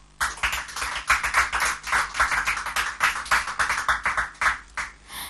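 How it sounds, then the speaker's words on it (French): Studio audience on a television game show claps for two contestants, a brisk, close run of distinct hand claps with an uneven rhythm. "Sous vos applaudissements"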